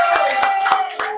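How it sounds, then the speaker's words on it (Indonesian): A classroom of students claps briefly, a few loose, uneven hand claps in quick succession over about a second, fairly close. "Tepuk tangan buat kita semua."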